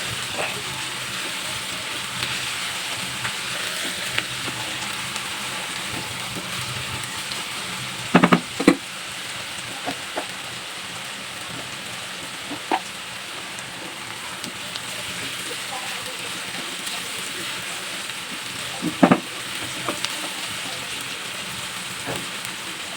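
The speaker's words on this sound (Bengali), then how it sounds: "পেঁয়াজটা হালকা ভাজা হয়ে গেছে" Onions with salt frying in a pan for a Dhaka-style egg biryani, a soft continuous sizzle with a few sharp clinks of a utensil, under occasional talking.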